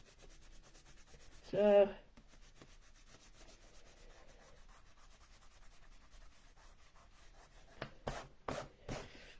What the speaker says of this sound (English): I'm just rubbing these out as I go so that I can see the pattern